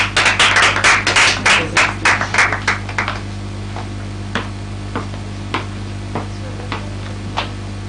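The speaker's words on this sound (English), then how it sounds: "Please come have a round of applause for me." A few people clap together briefly, then the clapping thins out into scattered single claps.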